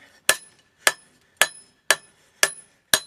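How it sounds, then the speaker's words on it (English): Six evenly spaced, ringing hammer blows strike hot steel while a Bowie knife tang is forged and drawn out, each sharp clang close and loud, about half a second apart. "flatten and turn and flatten and turn and flatten until you've drawn that tang out as far as you want"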